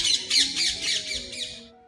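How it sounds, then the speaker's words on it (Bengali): Parrots squawk in a wildlife sanctuary deer park at Parmadan, Bibhutibhushan Wildlife Sanctuary, with a quick run of loud, harsh, shrill calls overlapping one another nearby before they break off abruptly. "ভেতরে টিয়া পাখিগুলো সঙ্গেই রয়েছে"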